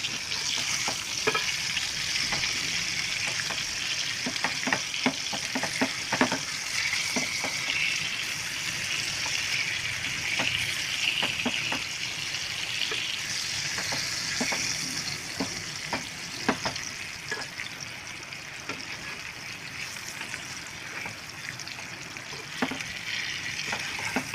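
Semolina- and flour-coated bangda mackerel shallow frying in oil on a low flame, with a continuous loud hiss and crackle and scattered clicks and pops as the fish is turned.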